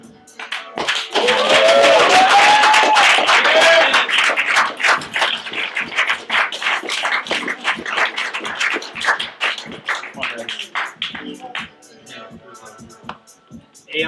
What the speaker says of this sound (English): clap it up for the group all one time